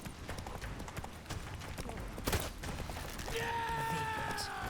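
Hooves of Roach, a horse in The Witcher III, clatter in a steady clip-clop gallop, with a creaky mechanical rattle and faint voices in the background.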